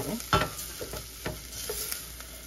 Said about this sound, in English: I'm gonna add my rice, and let that get a little bit of the olive oil and butter too